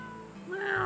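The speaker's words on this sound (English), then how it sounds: "Cat." A cat in the video game Suikoden V lets out one short rising meow, clear and close, over a quiet game background.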